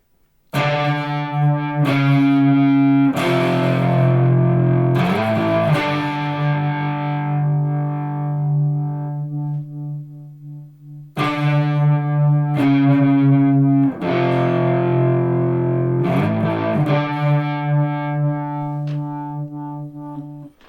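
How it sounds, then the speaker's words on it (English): A driven, slightly gritty electric guitar crunch tone plays strummed chords with sustained ringing, two similar phrases back to back, loud and alone without any talking. "And there's also a crunch"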